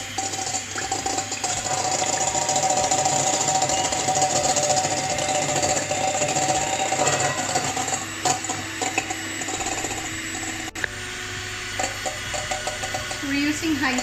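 An electric mixer whips egg whites for an egg pie filling at high speed, giving a steady motor whir with some rattling. A person speaks over the noise.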